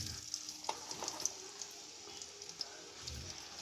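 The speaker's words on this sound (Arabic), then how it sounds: "الزيت سخن، هحط معاكم البطاطس." Potato pieces sizzle in hot oil with a steady, soft frying hiss and occasional crackles and pops, close and fairly quiet, with no voices over it.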